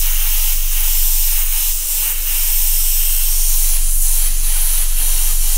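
An airbrush sprays green fluorescent paint onto a t-shirt, a loud continuous close-up hiss of air that holds steady for several seconds with slight pulses and no talking.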